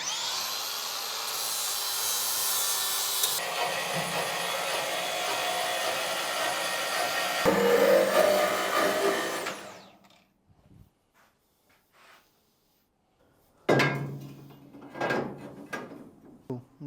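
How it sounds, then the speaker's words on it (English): A disc cutter slices through material during show car preparation, a loud sustained grinding whine running about ten seconds before cutting out, followed by quiet handling and a short second burst of cutting near the end. "Get the disc cutters out."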